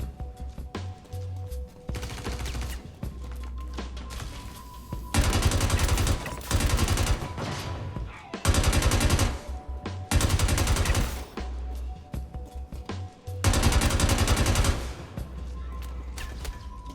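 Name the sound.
FS-9 LMG firing with compensator in video game Star Citizen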